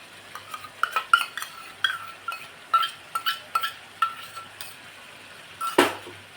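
A spoon clinks and scrapes sharply against a pan as spinach puree is stirred into hot oil for palak paneer, in irregular close taps with one louder knock near the end.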